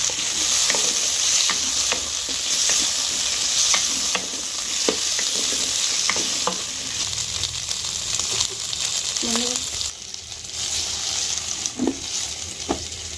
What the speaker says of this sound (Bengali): টমেটোটা দিয়ে দেবো। দেখবেন এটা জাস্ট কাঁচা গন্ধটা কাটানোর জন্য ভাজা হবে